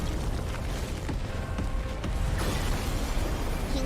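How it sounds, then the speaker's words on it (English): Big explosions from an enemy boss attack in the video game Honkai Impact 3rd, a dense continuous rumble of booms and crackling bursts that holds steady and loud throughout, with no talking. "Oh, he's got big explosions."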